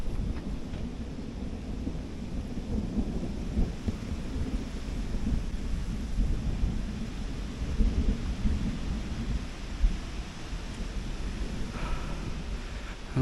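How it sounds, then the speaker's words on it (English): Thunder rumbling through a rainstorm, a deep, rolling, sustained roar with irregular swells and surges, overlaid by a steady patter of rain and some wind buffeting the microphone. "Who was the god of thunder and lightning? Was it Thor? I think Thor is heading over this way."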